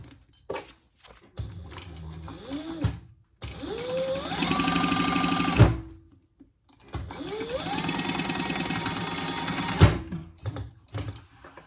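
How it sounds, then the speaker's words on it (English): A sewing machine bastes a seam on a fabric wristlet in two long, fast runs of close, loud, rapid stitching, each starting with a rising motor whine and separated by short pauses and clicks. "And we're just basting this in place."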